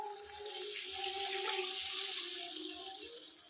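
Water poured into fried spice masala for a spicy tengra fish curry with tomato, a steady gushing pour with faint bubbling, fairly quiet and with no talking.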